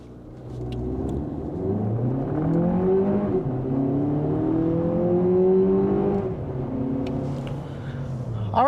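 A Lexus TX 500h F Sport hybrid three-row SUV accelerates hard from 0 to 60 mph, its engine note climbing in rising sweeps through each gear change, loud and steady from start to finish with no talking.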